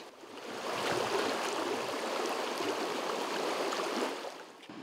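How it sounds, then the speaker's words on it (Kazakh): Water flows steadily along an irrigation ditch in a rural village, a continuous moderately faint rushing and gurgling without voices. "Қысы жазы арық жүйелерінен су үзіксіз ағып жатады."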